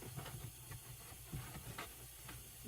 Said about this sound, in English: we turned the truck off and then you could hear air leaking